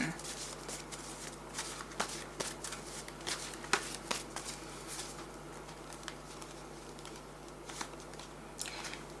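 Playing cards and tarot cards are shuffled by hand, with soft, irregular riffling taps and flicks close by over a steady background hum.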